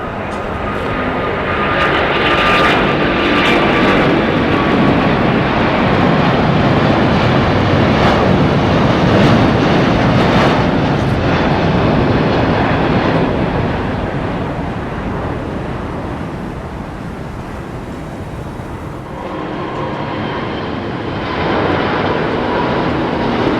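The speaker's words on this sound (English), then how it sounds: "A380. On its way back to Singapore, Changi Airport, my favourite there." A Singapore Airlines Airbus A380 airliner at Heathrow Airport gives a loud, sustained jet engine roar with broadband rumble that swells, holds, and then eases slightly toward the end.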